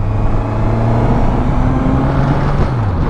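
A Suzuki GSX-S1000GT motorcycle is ridden on the road, its engine a steady loud drone with shifting harmonic tones as revs rise and fall, mixed with constant wind rush.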